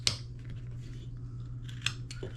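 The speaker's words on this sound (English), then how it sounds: "I'll do a stop cut in here, rock my knife" Sharp cuts of a carving knife rocking into a wood block for a stop cut, a few crisp scraping snaps over a steady low hum, close and fairly quiet.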